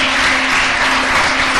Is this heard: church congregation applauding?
yes